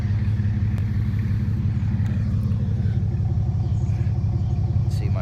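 A 1998 Chevrolet C1500 pickup's 4.3-litre V6 with a Flowmaster Super 10 muffler idles close, with a steady, throbbing deep low rumble and an even exhaust pulse, unchanging from start to finish.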